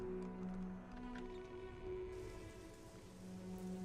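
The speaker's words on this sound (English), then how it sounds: "Oh, it's raining." Steady rain falls in the video game Morrowind, a continuous soft hiss with pattering drops at a constant moderate level and no speech.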